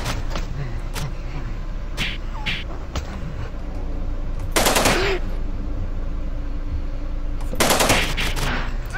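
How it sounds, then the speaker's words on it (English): Repeated weapon fire while shooting enemies in the game Nuclear Outrun, steady rattling shots throughout with two louder, longer bursts standing out over a constant background of game noise. "I've just been shooting guys because I want to build up some actual speed"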